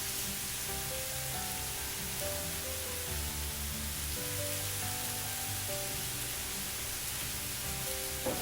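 Slices of ripe nendran banana sizzle steadily in a pan as they fry, a soft continuous crackling hiss under faint background music.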